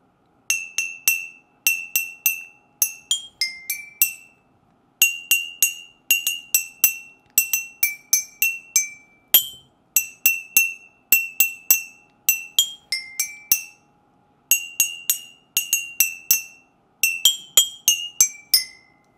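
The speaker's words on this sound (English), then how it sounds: "we are going to play some notes with just glass bottles and some water." Jingle Bells tapped out on glass bottles holding different amounts of water, bright ringing clinks in a steady melodic rhythm over many bars, close and clear with no voices.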